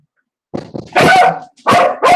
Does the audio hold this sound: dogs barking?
yes